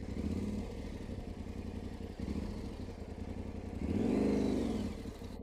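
An adventure motorcycle engine chugs at low speed with a steady mid-pitched rumble, briefly swelling louder near the end as it works through a rut in uneven ground.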